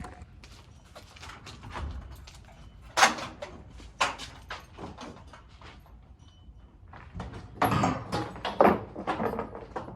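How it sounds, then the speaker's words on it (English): Doors of a workshop being opened, a series of clattering and creaking mechanical sounds with several louder bangs and scrapes, moderately close with quiet gaps between, no talking. "We're gonna open up all the doors and let in as much sunshine as we can."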